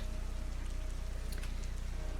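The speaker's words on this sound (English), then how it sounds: "it's raining." Steady rain falls in the video game Heavy Rain, a soft continuous hiss with a faint low hum running underneath, fairly quiet and without any talking over it.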